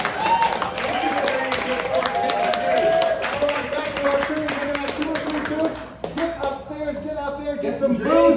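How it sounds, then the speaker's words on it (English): Enthusiastic applause from an audience at a poetry party in Nashville, dense clapping throughout with some cheering, a brief dip near the end before it swells again. "Give him another round of applause."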